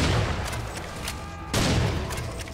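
Heavy gunfire from a gun in Serious Sam 4, loud booming shots in a rapid volley with a strong blast near the middle, dense and close with no talk over it.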